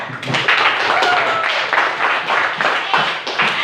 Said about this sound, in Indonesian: Tepuk tangan dulu untuk keyakinan kelas kita